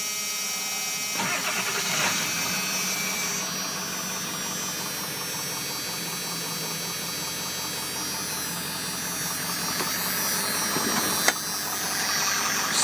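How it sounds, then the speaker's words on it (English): A 1997 Ford F250 4x4 with the 7.3L diesel cranks briefly, then settles into a loud, steady, rattly clatter at idle, heard close with no talking. "Start up, let you guys hear it run."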